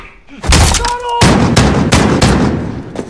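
An AK rifle firing in Call of Duty Modern Warfare (2019), several loud, close bursts of rapid gunshots in quick succession, each cracking sharply with a booming tail.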